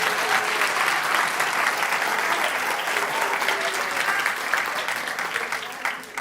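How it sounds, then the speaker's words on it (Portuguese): A church congregation claps loudly and steadily after a sermon line, a dense wash of many hands lasting about six seconds, with no voices standing out. "aplauda forte o nome dele"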